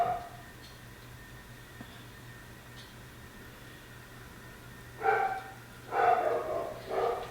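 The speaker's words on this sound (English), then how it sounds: "Sorry about the dogs barking." Several dogs bark indoors at some distance, first faintly and then in louder bursts near the end, under a steady household hum with no voices.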